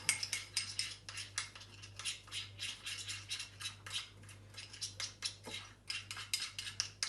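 A spoon clinks rhythmically against a bowl while honey and Dijon mustard are stirred together for a camping recipe, quick light metallic taps repeating steadily over a faint low hum.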